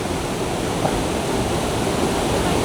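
Mountain stream water rushes steadily in the village of Imlil in Morocco's Atlas mountains, a dense, continuous broadband roar close by with no pauses and no talk.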